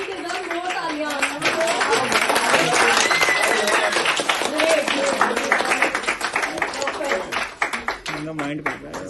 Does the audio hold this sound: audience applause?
yes